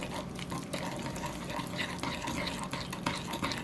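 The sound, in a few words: stirring brown sugar into butter on stovetop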